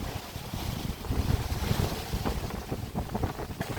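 Strong sea wind at Martisan Resort buffets the microphone in a constant roar, with a faint wash of sea in the background.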